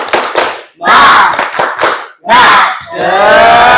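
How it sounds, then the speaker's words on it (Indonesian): A school group claps in unison and shouts a spirit chant together in short, loud, rhythmic bursts separated by brief pauses, close and energetic, with a leader's voice calling out between rounds. "coba kita tepuk semangat dulu"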